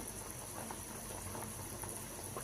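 Dal (lentils) boiling in a pot, a steady soft bubbling and simmering hiss that stays even throughout, fairly quiet with no talk.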